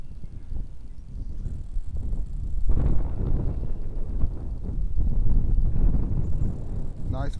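Gusty wind buffets the microphone outdoors while a Hubsan X4 Air brushless GPS drone is flown, a low rumbling roar that swells louder midway and stays close and steady throughout.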